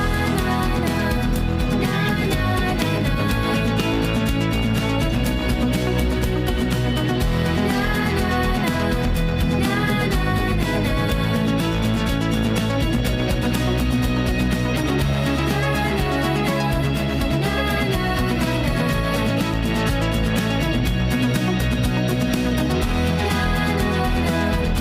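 Upbeat, light and energetic non-lyrical pop chorus with full band instrumentation and a steady beat, playing loud and continuous throughout with no singing or talking.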